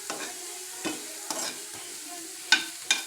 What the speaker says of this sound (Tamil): நல்ல நெய் ஊற்றி நல்லா ஃப்ரை பண்ணிட்டேன்.